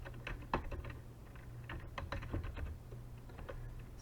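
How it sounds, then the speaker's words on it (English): Typing on a computer keyboard while entering the date on a business letter, with a run of quick, uneven keystrokes and a few louder taps, close and alone. "We start just by typing the current date."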